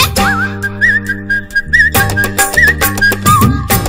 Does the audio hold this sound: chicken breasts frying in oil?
no